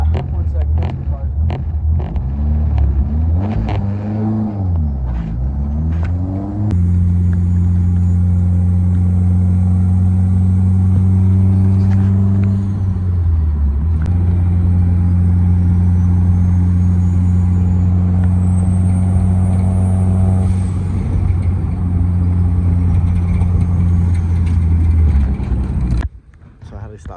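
Road cars drive past at close range, giving a loud, steady engine rumble with a couple of rising and falling swooshes as vehicles go by, ending abruptly.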